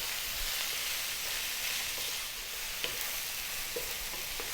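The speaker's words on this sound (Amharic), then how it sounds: "ከዛ ይሄን እንጠብሳለን ለ3 ደቂቃ።" Ethiopian siga tibs, meat pieces frying in a pan, hisses in a steady broadband sizzle while a few faint scrapes and stirring clicks from the spoon come through, heard close and alone without talk.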